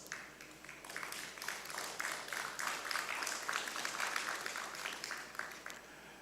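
Audience applause at a local content conference, a steady wash of many hands clapping at moderate level with a faint low hum underneath.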